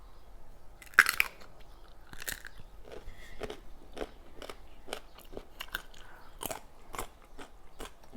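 Crisp bites and chewing of crunchy sour mango, a sharp first snap followed by a string of close, irregular crunches over a quiet background.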